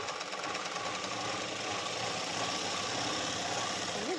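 A sewing machine stitches cloth in a steady, continuous mechanical hum and whir that runs evenly and fairly close throughout, with no talking.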